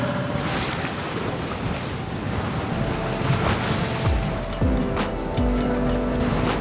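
Wind and surf surround a sailboat under way in open water, a steady broad rush of waves and gusts buffeting the microphone throughout, with no talking.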